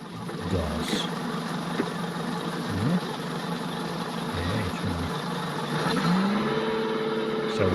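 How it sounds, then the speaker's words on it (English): Outboard motor running steadily and rising in pitch as the throttle is opened, a close continuous engine drone with occasional tonal whines and creeping loudness. "I'm about to add more"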